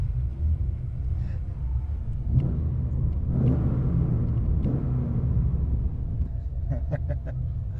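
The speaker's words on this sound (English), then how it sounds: "I'm driving a Maloo at 1 kilometer per hour." An HSV Maloo ute's engine hums steadily from inside the cabin while driving slowly, a low continuous rumble with faint voices talking over it.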